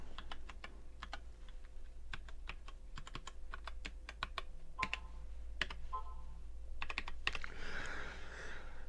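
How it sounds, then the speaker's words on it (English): Rapid clicking keystrokes on a computer keyboard, a steady stream of taps in uneven bursts, close and alone over a low hum. "what I'm going to do is I'm going to type"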